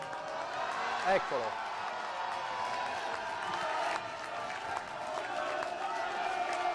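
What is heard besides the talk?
roar of volleyball fans greeting arriving players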